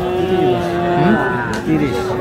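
Young Shahiwal bull calves low mooing at a busy cattle market, several drawn-out bellows with sliding pitch in close succession, loud and near, with crowd murmur beneath.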